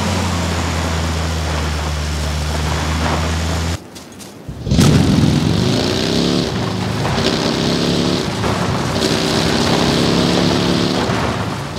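A heavy vehicle in PUBG runs at top speed with a loud, steady engine drone, cuts out briefly, then surges back with a rising rev and hiss of motion over continuous rumble.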